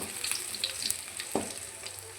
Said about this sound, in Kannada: ಸಾಸಿವೆ ಎಲ್ಲ ಉಟ್ಕೊಳ್ತು ಹಾಗೆ ಗುತ್ಕೊಂಡಿರುವಂತಹ ಬೆಳ್ಳುಳ್ಳಿ